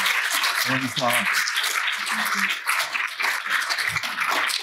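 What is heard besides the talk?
audience applause for the panelists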